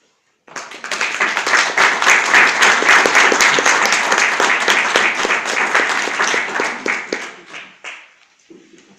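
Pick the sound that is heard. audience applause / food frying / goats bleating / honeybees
audience applause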